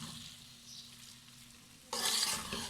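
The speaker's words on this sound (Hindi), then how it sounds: "इसको हम अच्छी तरह भूनेंगे" Taro root frying in a pan with chopped and whole green chillies and spices, a soft steady sizzle with stirring that suddenly turns much louder and brighter near the end.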